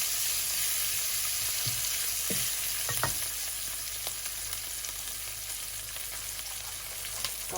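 Sun-dried tomatoes sizzle in a pan while being stirred, a steady close frying hiss broken by a few light scrapes and taps of a spoon, with no voices.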